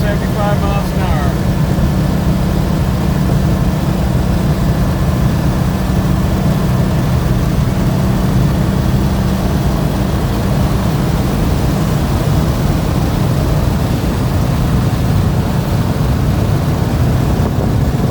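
Engine of a 1969 Porsche 912 pulling near 4,000 RPM at highway speed, a loud steady droning rumble with road and wind noise that holds constant throughout.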